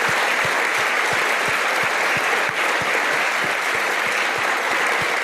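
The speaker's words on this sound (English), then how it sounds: "please give A big applause" A crowd applauds steadily and loudly, a dense wash of clapping with a few distinct hand claps keeping a rough rhythm throughout.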